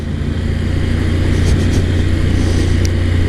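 Honda NC750X motorcycle riding along, its engine a steady low rumble mixed with continuous road and wind noise, loud and close throughout with no talk.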